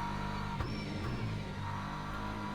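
A BMW M4 GT3 race car in Le Mans Ultimate at Monza holds a steady, loud engine drone throughout, with one brief gear-change dip near the start and no voices over it.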